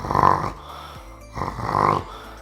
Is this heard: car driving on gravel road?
no